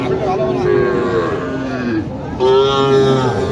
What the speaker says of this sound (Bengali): ছোট্ট একটা সার বাছুর